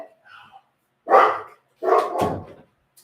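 A dog whines and yips at a door while waiting to be let in, giving a few short high whimpers followed by two louder, longer whining cries, close by in an otherwise quiet room.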